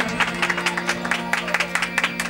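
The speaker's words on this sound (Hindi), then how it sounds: "जोरदार तालियों" Applause at a Sindhi community gathering honouring Jyoti Pappu Kalani: a steady run of clapping from a crowd, moderately loud, over a constant low electrical hum.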